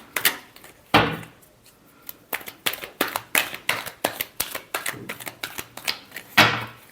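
Tarot cards being shuffled during a Pisces reading, heard as bursts of quick, crisp paper clicks and flutters in an uneven rhythm, close and fairly loud, with no talking.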